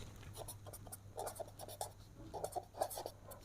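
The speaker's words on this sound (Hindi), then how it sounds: "ठीक है, लिख लेते हैं अली, फ़हद" Pen writing by hand on paper during a math lesson, quiet close scratchy strokes in short irregular bursts with tiny gaps between words, no talk over it.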